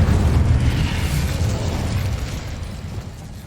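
Incendio fire spell cast in Hogwarts Legacy, a loud roaring whoosh of flame that bursts at once and slowly tapers off over a few seconds.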